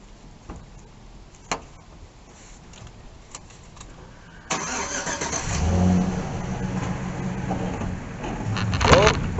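A Jeep Willys engine starts and revs as the vehicle is bumped back during a rescue, a loud mid-pitched rumble rising midway and holding steady, with people talking over it.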